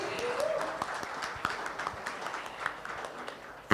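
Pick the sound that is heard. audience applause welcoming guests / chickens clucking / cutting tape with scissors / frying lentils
audience applause welcoming guests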